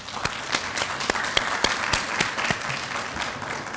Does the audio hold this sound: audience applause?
yes